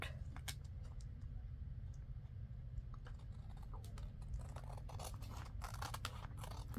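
Scissors trim coffee-dyed paper while making a fold-out journal tag, giving quiet, repeated crisp snips and rustles over a steady low background hum at close range.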